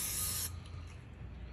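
Spray adhesive hisses from an aerosol can in one short, loud burst lasting about half a second, applied to fix moss onto a fence post, then cuts off to a quiet room hum.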